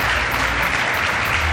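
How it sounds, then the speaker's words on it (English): A short burst of steady, dense applause from a crowd honoring a rider's Tissot Pole Award at a MotoGP eSport Global Series event, even and full throughout with no talking. "Let's have a massive round of applause"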